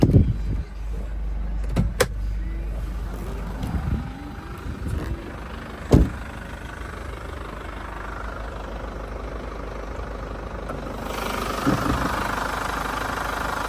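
A Chevrolet Captiva 2.2 diesel with automatic transmission idles under the open hood, a steady low engine rumble running throughout, with a few sharp clicks and knocks of handling near the start and a slight rise in hiss toward the end.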